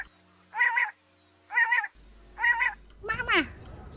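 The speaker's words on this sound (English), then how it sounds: "That's a cat." Three evenly spaced meows sound one after another, clear and fairly close, followed by a brief burst of other animal calls and noise.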